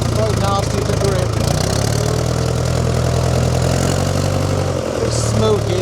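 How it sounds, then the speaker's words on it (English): An old, rusty vehicle engine runs steadily at idle, a smoky, low rumbling drone that stays loud and continuous throughout. "A bit smoky, this engine."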